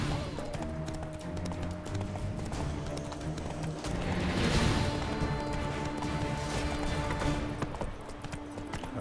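Horse hooves clip-clopping along a winding path in the video game The Witcher 3, a steady irregular trot under game music and ambient sound, with a louder, busier stretch midway.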